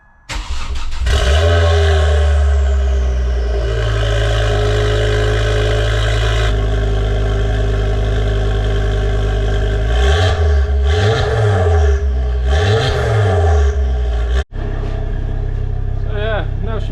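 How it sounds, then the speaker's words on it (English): Ford Focus MK2 with a new, louder exhaust, started and idling in a garage, then revved several times in rising and falling bursts before a sudden cut, a loud, close, deep engine note. "So let's fire it up and see how it sounds."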